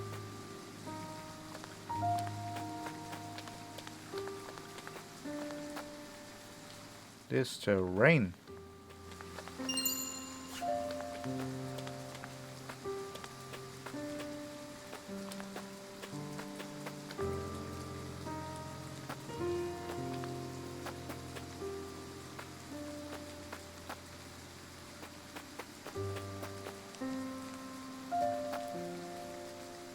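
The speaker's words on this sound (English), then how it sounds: "I doubt the rain will let up anytime soon." Steady rain patters continuously beneath soft melodic music in the video game Triangle Strategy, at a camp in an abandoned village, with a brief spoken remark partway through.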